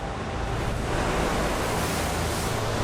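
Freshening wind buffets the microphone over sea waves at an offshore dive site, a loud continuous roar of surf and gusts with no speech.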